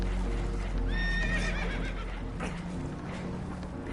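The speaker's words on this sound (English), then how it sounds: "Horses are spooked, and we're taking on water." Spooked horses in Red Dead Redemption 2 give a loud, quavering whinny near the start, with hoof clip-clop and steady game ambience underneath; no one speaks.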